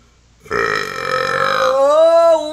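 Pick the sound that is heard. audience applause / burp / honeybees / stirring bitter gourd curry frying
burp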